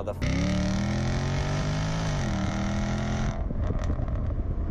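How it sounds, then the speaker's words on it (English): A 2017 Jaguar F-Type SVR Convertible's 5-litre supercharged V8 drones loudly with a strong harmonic growl, its pitch shifting as it pulls, then cuts off abruptly near the end, leaving faint wind and background noise. "Under my right foot is a 5-litre supercharged V8 engine producing 568 brake horsepower and no less than 700 Newton meters of torque"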